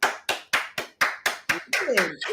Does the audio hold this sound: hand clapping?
yes